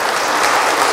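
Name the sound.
audience applause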